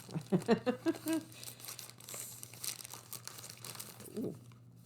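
Dull kitchen scissors snip and crinkle through a plastic bag, a quick cluster of crisp crackles up front giving way to softer rustling, quiet and close with faint background hum.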